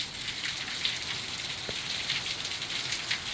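Heavy rain from Hurricane Milton pours steadily onto surfaces near a house, a dense continuous hiss with scattered drips, constant and enveloping with no voices.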